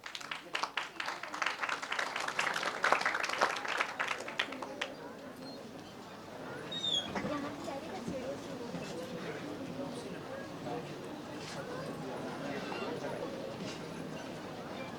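Audience applause at a Sanskar Sena event in Ravindra Bhawan, Bhopal, greeting the founder on stage: dense clapping for several seconds that fades into murmuring hall noise and someone speaking.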